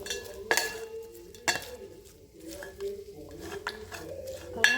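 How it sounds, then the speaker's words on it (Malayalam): Bitter gourd stir-fry with onions tossed in a pan, giving a few sharp utensil clinks and scrapes against the metal at irregular intervals over a quiet sizzle, close and moderately loud. "മിക്സ് ചെയ്തെടുക്കാം"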